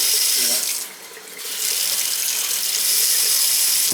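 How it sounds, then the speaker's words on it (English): Steady running water from a tap, a continuous hiss that briefly dips in strength before flowing fully again. "Yeah, the water's not off. The water's still on."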